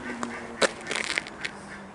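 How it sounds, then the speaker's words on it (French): Ducks and geese at a pond in the town of Saintes, with a few short honking quacks rising over a steady low hum of background traffic. "Vous avez des canards qui sont là."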